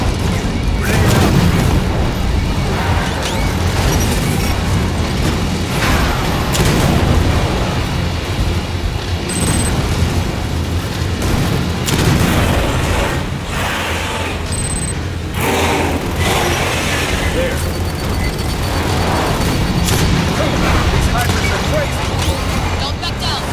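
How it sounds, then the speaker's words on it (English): Grenade detonation in Aliens: Fireteam Elite 2, a deep boom buried in a dense, steady wall of rapid gunfire and rumbling battle noise, with in-game voices calling out over the fighting. "Grenade out."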